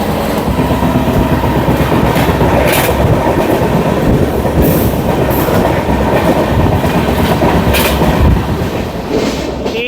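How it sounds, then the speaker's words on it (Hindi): The Purushottam Express rolls into a large rail yard, its wheels clattering steadily over the tracks in a loud, constant rumble heard from on board, with brief metallic squeals near the end. "एशिया के सबसे बड़े यार्ड में हम लोग की ट्रेन जो है एंटर कर चुकी है"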